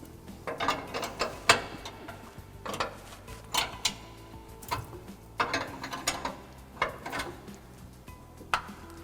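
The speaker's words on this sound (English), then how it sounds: "we now unlock these two nuts" A wrench ratchets while loosening two lock nuts on the drive pump belt tensioner of a reel drive, giving repeated sharp metallic clicks in short uneven bursts, close and clear with no talking.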